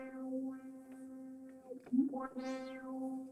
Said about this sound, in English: Or I can put some resonance on the filter.